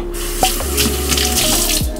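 Water runs steadily from a faucet into a kitchen sink in a rental home, a constant close rush with a few small clinks and knocks mixed in.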